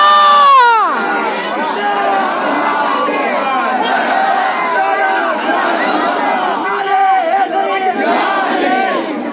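A large crowd at a religious Milad gathering in Dhandhuka erupts in loud, shouted chanting that opens with a sharp collective cry, then rolls on as a dense, continuous roar of many voices.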